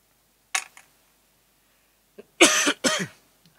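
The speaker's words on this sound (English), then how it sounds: "I do apologise, I'm coughing away here." A few sharp coughs from one person nearby: a short cough, then after a pause a harsher double cough, with a faint sound at the end.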